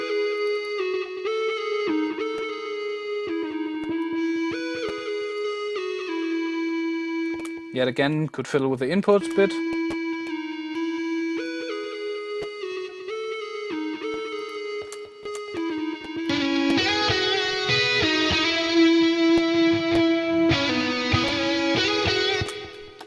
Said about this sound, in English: let's have a listen what it sounds like with a bit of amp distortion and some effects